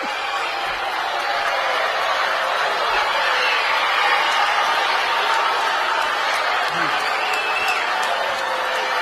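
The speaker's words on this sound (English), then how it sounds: "She got the Baltimore cheer there." A large crowd in Baltimore cheers and applauds the First Lady, making a dense, continuous roar of clapping and voices that stays loud and steady throughout.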